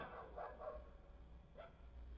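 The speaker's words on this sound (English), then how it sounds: "Never mind the puppy barking in the background." A puppy barks a few times in the background, faint, muffled yips, two quick ones then another after a pause, over a low indoor hum.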